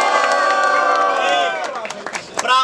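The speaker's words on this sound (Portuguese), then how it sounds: "barulhos pra quem gostou das rimas do Sabuão" Crowd at a Brazilian student rap battle final cheering and shouting in a dense roar that thins into scattered yells and a few claps, then swells briefly again.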